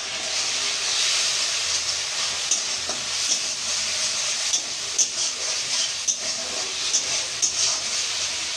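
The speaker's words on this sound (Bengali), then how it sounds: "চলো আলুটা লাল লাল করে ভেজে নিয়ে তারপরে তোমাদের সামনে আসছি।" Potatoes frying in a pan make a continuous bright sizzle and hiss, with occasional soft scrapes and pops as they are stirred. No one talks.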